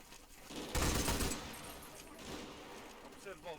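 A Vickers machine gun firing area support in the war game Combat Mission, with a dense rattling burst of rapid shots lasting under a second, then a fading echoing tail and faint battlefield noise.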